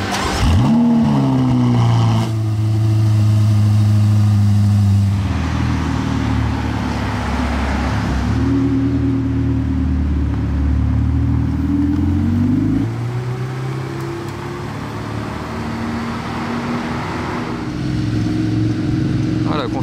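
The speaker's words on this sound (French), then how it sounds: "j'ai entendu la Pista qui va démarrer" A Ferrari Pista supercar in Monaco near the casino square starts and revs, its deep engine note rising and falling loudly and close for the whole stretch, with voices faintly in the background.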